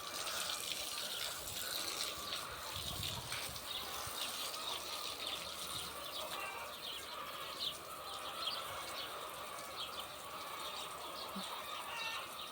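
Steady hissing spray of water onto a newly cast concrete kitchen slab runs throughout, with faint bird calls in the background and no talking.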